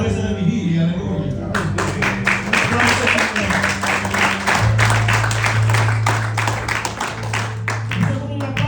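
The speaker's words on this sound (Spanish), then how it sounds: "Esto es como un aplauso de estudio bíblico." A church congregation breaks into lively applause after a brief spoken moment, with the clapping carrying on close and full over a sustained keyboard chord.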